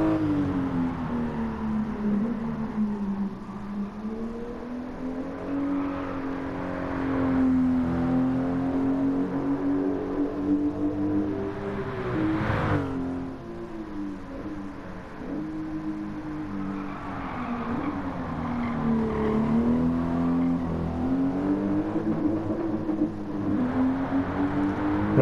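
A Toyota GR86 '21 with a swapped engine drives in Gran Turismo 7, its engine droning loud and steady, pitch rising and falling with throttle and shifts, alone without talk.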